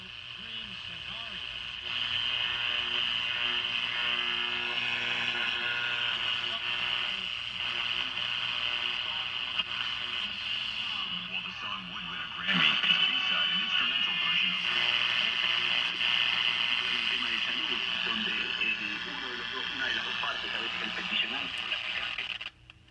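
A restored vintage tube radio plays after repair, its broadcast voice coming through a steady, slightly buzzy speaker tone at a constant level, with a brief shift midway.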